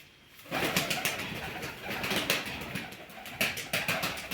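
Arab-type flying pigeons, including young birds, give soft cooing and rustling at a fairly low level, broken by several sharp flutters and wing claps. No one speaks.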